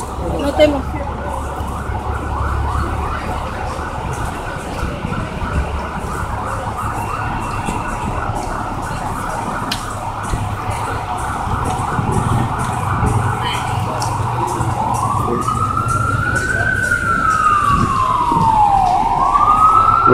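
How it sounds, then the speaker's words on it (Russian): A fire engine siren wails along busy 34th Street in New York City in the evening, its pitch sweeping up and down over steady traffic rumble, growing louder as it approaches. "Это пожарная скорая помощь."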